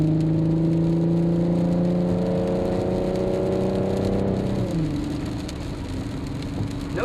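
A Porsche 957 Cayenne V6 fitted with a Maxflo Supercup exhaust rumbles close by with a deep, steady engine drone that holds for several seconds, then drops to a lower idle, with a hissing wet-road or rain-like background.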